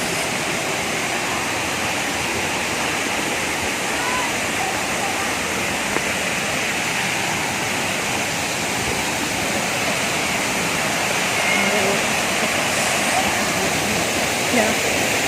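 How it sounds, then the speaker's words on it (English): The Karura waterfalls in Karura Forest, Kenya pour with a steady, dense roar of falling water, loud and unbroken throughout, with a voice faintly audible beneath the rush. "The waterfall is over there, guys. Just hear the sound of the water."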